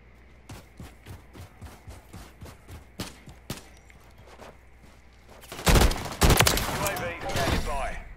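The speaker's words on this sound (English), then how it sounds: "Oh, I got shot." Gunfire in a Call of Duty match: steady single shots ring out at a regular rhythm, then a louder, heavier burst of fire hits close by near the end.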